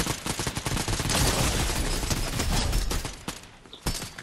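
Rapid automatic gunfire in a video game rattles in dense, loud bursts that overlap with scattered single shots and fade briefly before one last sharp report.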